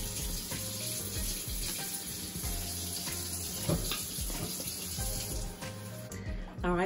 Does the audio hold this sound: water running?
yes